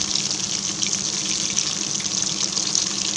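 Chicken 65 pieces fry in hot oil, giving a dense, continuous sizzle and crackle, close and steady, with no voices.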